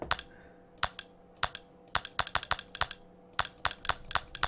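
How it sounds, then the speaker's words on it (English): Computer mouse buttons clicking at a desk, a quick series of sharp, close clicks in irregular bursts, some coming in rapid pairs, over a faint quiet background. "So I hear the clicking from my mouse"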